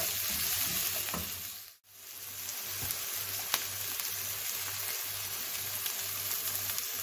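Spices fry with softened chopped onion in oil for aloo paratha filling, making a continuous close crackling sizzle. One short dip in the middle breaks the sizzle, followed by a few light clicks of a stirring spoon.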